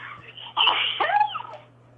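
A single close sneeze bursts out after a short quiet stretch, followed by a brief breathy trailing sound, with a faint steady hum underneath.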